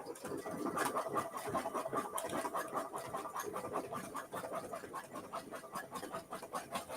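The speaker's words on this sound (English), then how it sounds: "This is going to do a very wide zigzag stitch." A domestic sewing machine stitches a very wide zigzag while making quilt fringe, giving a steady, busy mechanical chatter of rapid needle strokes that carries on without a break at moderate volume.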